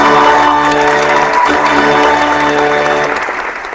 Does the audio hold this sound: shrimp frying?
no